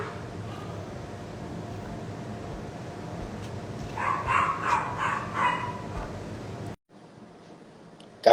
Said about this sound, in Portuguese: Cachorrinho aqui da vizinha tá latindo